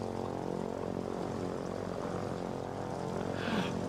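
A propeller plane in the war game Foxhole flies past as a steady, droning engine hum with a buzzing, harmonic tone, holding at moderate loudness throughout with no voices.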